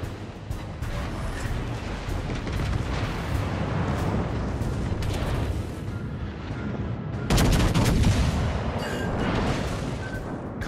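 Heavy naval gun salvos and explosions from World of Warships: Legends sound over a continuous battle rumble, with a loud booming blast about two-thirds of the way in.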